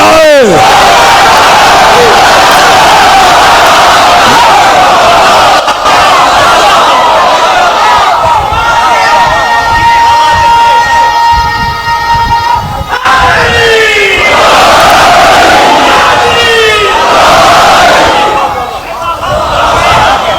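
A large crowd at a Muharram majlis in an imambargah raises loud chanted religious slogans, a sustained roaring mass of voices swelling and breaking in waves, close and intense.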